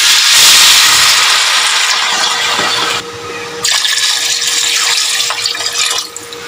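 Water pours steadily and loudly into a pot of lamb trotters set to simmer, a close, full hissing splash that briefly drops and then resumes before tapering off.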